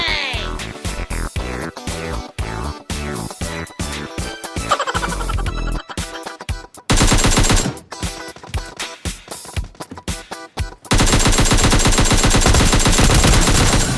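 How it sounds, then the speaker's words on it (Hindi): Loud gunfire from the shooting game PUBG plays in rapid bursts of automatic fire with single shots between, the repeated blasts dense and close throughout, with no talk. "खान साहब, आप परेशान ना हो, मैं देखता हूँ कौन फायर कर रहा है"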